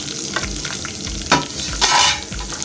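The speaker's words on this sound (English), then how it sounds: "I'm going to add ginger and garlic right now." Ginger and garlic frying with golden onions in a pan while being stirred for egg curry, a steady close sizzle broken by scraping stir strokes, with no talking.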